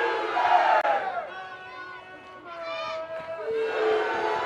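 Oklahoma Sooners softball fans in a stadium crowd in Puerto Vallarta, Mexico, loud sustained cheering and chanting with rising and falling shouts, a sharp clap near the start, and voices swelling again at the end.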